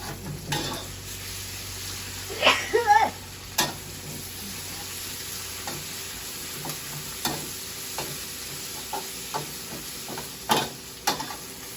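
Fish and shellfish frying in a pan, with a steady sizzle under repeated scraping stirs and utensil clatter. Bursts of louder clinks break up the sizzle from start to finish.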